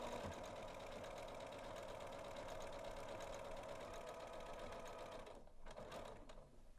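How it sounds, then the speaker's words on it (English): A Janome sewing machine stitches dress fabric with a steady, close motor whir and rapid needle clatter that runs continuously for about five seconds, then stops abruptly, leaving faint settling noises. "now we're ready to get sewing"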